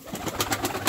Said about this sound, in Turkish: Evet, kuşlar bunlar.